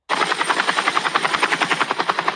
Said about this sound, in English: Why is there a helicopter in the middle of the school?